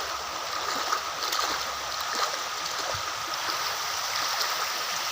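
Continuous gurgling rush of stream water flowing under an old British-era bridge in Bihar, steady and close with small splashes, no talk over it.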